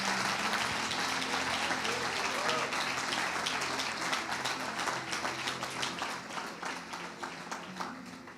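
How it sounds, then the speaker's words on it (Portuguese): Audience applause at a church family-day event, a dense steady wash of many hands clapping that carries on throughout and slowly thins toward the end. "Mais uma salva de palmas"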